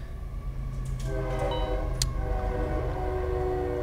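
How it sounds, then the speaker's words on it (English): A train passes on tracks behind a house, a steady low rumble with a sustained horn-like tone layered over it, moderately loud and continuous, with no talk. "Can you hear the train in the video?"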